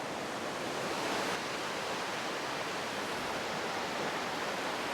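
A New Zealand waterfall roars as a continuous, broadband rush of falling water, loud and unchanging throughout, with no voices over it.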